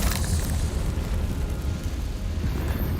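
A deep, rumbling blast from the Confringo fire spell in Hogwarts Legacy opens loud and heavy, then rolls on as a sustained low boom with no speech over it.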